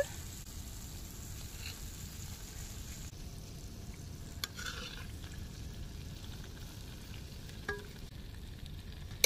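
Croaker fish coated in Mangalore-style masala fries in hot oil, a quiet continuous sizzle with occasional small pops and stirring clicks, no one speaking.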